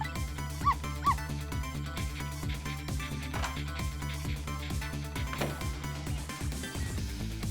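A dog in the video game Ghost Trick: Phantom Detective gives a few short yapping barks and whimpers over steady background game music, with no talking.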